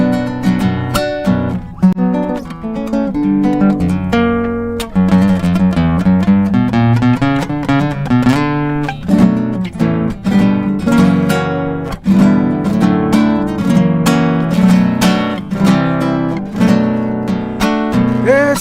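A samba song from an album, playing steadily as full music with harmonic instruments and rhythmic strikes throughout, fairly loud and continuous with no talk over it.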